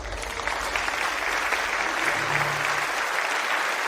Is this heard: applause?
yes